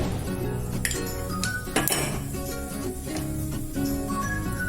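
Mustard seeds sputter and pop in hot oil at the start of a tempering for a peanut gravy curry, giving a dense, steady crackle close by with sharp metallic clinks of a utensil against the pan.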